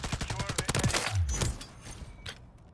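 A Taq Eradicator light machine gun in MW3 lets off a fast, rapid burst of shots, then fires a few scattered single rounds as the firing fades out, loud and close.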